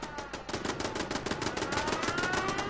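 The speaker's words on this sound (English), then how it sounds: "we'll see the turrets have found something to target" Base turrets in Fallout 76 fire at a target in a rapid, steady burst of sharp automatic shots, loud and continuous for the whole stretch with no voices.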